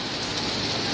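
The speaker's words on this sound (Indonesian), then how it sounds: "hujan." Heavy rain pours down during a hailstorm in Depok, a dense, steady hiss of falling water with no voices.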